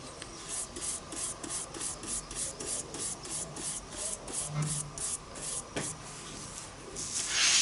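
Pastel colours are rubbed and blended on paper in a soft, rhythmic scratchy swish, repeated strokes at close range.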